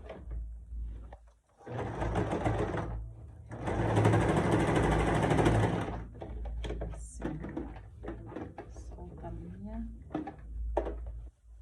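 A sewing machine stitching a fabric makeup bag, running in several bursts of rapid, whirring mechanical stitching separated by short pauses with small clicks and handling noises.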